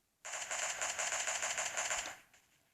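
Automatic gunfire in the mobile shooter game PUBG Mobile Lite rattles out as one continuous rapid burst lasting about two seconds, loud and close, then cuts off.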